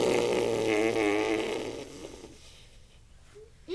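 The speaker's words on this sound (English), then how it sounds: "don't fart that long in real life" A long, drawn-out fart sound wavers and buzzes for about two seconds, then trails off into quiet, ending with a brief squeak.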